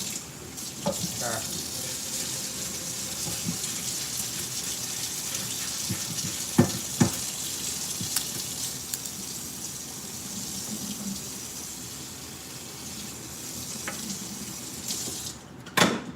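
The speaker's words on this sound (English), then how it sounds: "Just need to give this a quick little rinse." Kitchen tap running while an item is rinsed, a steady hiss of water with a few light clinks and knocks over the flow, close and moderately loud, ending in a brief burst.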